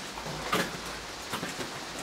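Heavy rain in Ireland falling on and leaking through a roof, a soft steady patter with a few sharper drip hits, fairly quiet and close, with no talking.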